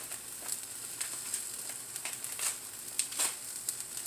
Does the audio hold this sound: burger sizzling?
yes